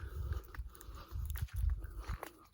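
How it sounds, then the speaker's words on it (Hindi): Someone chewing a twig to fray it into a toothbrush: close, uneven biting and crunching with short pauses between bites and no talk. "इसे चबा चबा के इसे ब्रश बनाते हैं ऐसे"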